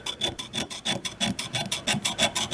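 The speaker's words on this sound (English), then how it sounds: "We're going to scrape it." Paint is scraped off a metal axe head in quick rhythmic strokes, about a dozen rasping scrapes close by, with no talk.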